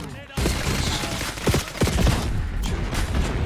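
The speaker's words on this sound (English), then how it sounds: "Oh, who's shooting me?" Rapid bursts of gunfire in Black Ops 6 ring out close and loud, with several sharp shots standing out over a steady barrage, and a voice talking briefly beneath the shooting.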